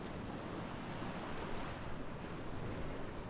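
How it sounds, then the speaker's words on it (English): Sea waves wash steadily onto Makronissos beach at night in an even, close roar of surf with some wind on the microphone. "But I really look forward to enjoy the waves."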